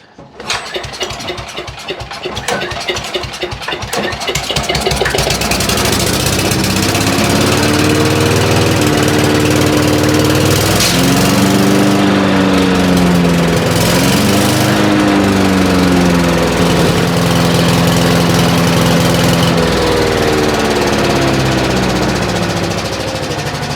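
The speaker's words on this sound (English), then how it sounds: "it seems to run okay at anything above idle" A small wood chipper's gasoline engine starts with uneven, sputtering pulls and then settles into a loud, steady running drone that changes pitch a little as the throttle shifts, close by with no talk.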